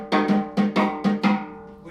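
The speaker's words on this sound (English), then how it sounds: "An African drum call to a similar kind of rhythm" African-style drum call in an uneven, swung rhythm: six resonant, pitched hand-drum strikes in pairs, each ringing out briefly, close and clear with nothing else over them.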